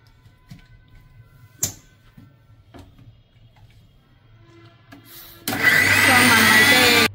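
Mixer grinder blending biryani ingredients into a paste: after a few faint clicks and knocks, the motor kicks in abruptly and runs loud and steady for the last stretch of the clip.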